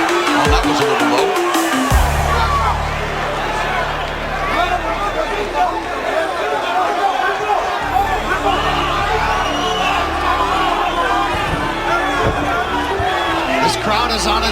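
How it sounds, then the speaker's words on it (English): Boxing arena crowd cheering and screaming for Cruz, a dense continuous roar of chatter, whoops and shouts filling the whole stretch, with an announcer talking over it. "they'll scream for anything Cruz attempts"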